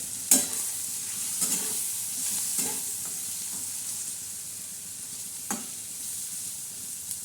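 Chili masala frying in hot oil, a steady bright sizzle held throughout, with a few soft scrapes of a spoon stirring the pan, close by.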